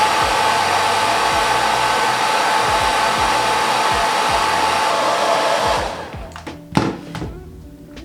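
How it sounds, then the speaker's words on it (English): Blow dryer heating the glued seam of a Darth Maul Legacy lightsaber hilt, a loud steady whir that cuts off after several seconds, followed by a few hard plastic knocks and thumps. "the goal here is just to heat up this seam"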